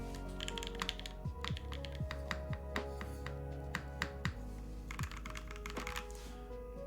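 Typing on a Flash custom mechanical keyboard, a steady run of crisp, close key clacks in quick irregular rhythm with occasional firmer strikes, heard alone with no talking.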